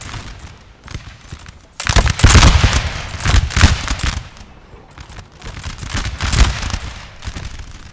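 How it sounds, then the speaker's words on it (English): Musket volleys crackle from massed infantry in a Napoleonic multiplayer battle game, with several heavy bursts of gunfire rolling over a continuous din of distant shots and battlefield noise. "Some volleys going out there, doing their bit, scaring off the enemy where they need to."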